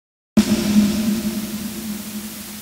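After a brief silence, a constant hiss-like dither noise in a 16-bit audio file begins and runs steadily underneath a sustained low tone, unchanging to the end.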